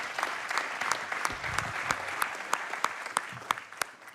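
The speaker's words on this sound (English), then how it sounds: "So please join me in giving them a round of applause" An audience at an energy forum in Sydney applauds its panelists with loud, sustained clapping, each clap sharp and distinct, and the applause fades slightly toward the end.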